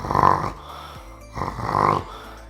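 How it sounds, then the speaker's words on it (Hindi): A person snores in two slow, heavy rasping breaths, close and loud, with a quiet gap between them. "ऐसे के खर्राटे खींचता रहता है"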